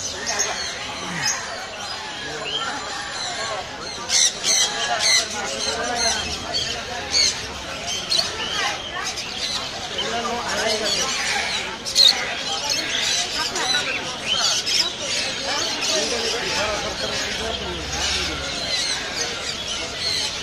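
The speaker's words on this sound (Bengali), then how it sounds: "আমরা চলে আসছি মিরপুর এক পাখিরহাট" A crowded bird market at Mirpur 1 in Dhaka rings with a dense, continuous chorus of squawks, squeals and shrill chirps from many caged birds, with voices talking through the din.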